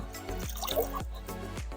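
Water drips off a freshly rinsed cast iron pot, with a few distinct drops falling at a slow, fairly even pace over a quiet background.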